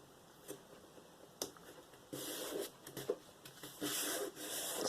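Masking tape is rubbed down along the seams of a leather-look junk journal folio, with close, soft rubbing and scraping strokes in uneven bursts that grow longer and louder toward the end.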